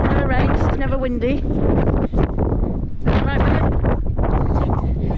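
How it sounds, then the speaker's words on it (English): Wind blows along Torquay seafront by the pier and harbour on the English Riviera, a loud, gusty rumble buffeting the microphone while people talk over it. "there's a gentle breeze."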